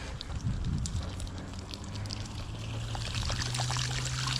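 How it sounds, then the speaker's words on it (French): A small stream of floodwater trickles and flows steadily nearby at Roquebrune-sur-Argens, a soft, continuous gurgle with a faint low hum underneath. "Petit ruisseau qui circule."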